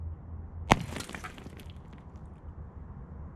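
A hollow ice orb shatters in one sharp, close crash, followed by brief tinkling fragments and then quiet room tone.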